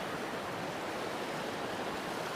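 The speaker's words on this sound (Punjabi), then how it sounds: "ਸਾਫ ਪਾਣੀ ਆ ਰਿਹਾ ਵਾ ਠੰਡਾ ਠੰਡਾ ਠਾਰ" Clear, cold mountain stream water in Pahalgam, Kashmir rushes past in a steady broadband roar, loud and close, constant with no pauses or other sounds.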